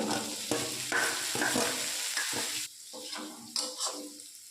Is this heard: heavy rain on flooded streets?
no